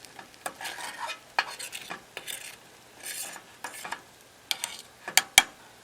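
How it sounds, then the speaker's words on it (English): Scrambled eggs stirred and scraped in a pan with sausage oil over a butane camp stove, steady soft sizzling under repeated utensil scrapes and a couple of sharp metallic clinks near the end. "So scrambled eggs on top of the oil from the sausages, and that'd be breakfast."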